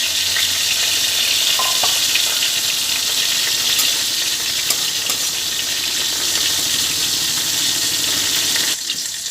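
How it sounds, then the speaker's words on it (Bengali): Mung dal dry-frying in a wok, a steady broadband sizzle with light scraping and stirring throughout, loud and close, ending with a brief clatter near the end. "আরেকটা কড়াইয়ের মধ্যে আমি মুগ ডালটা দিয়ে মুগ ডালটা ভেজে নিচ্ছি"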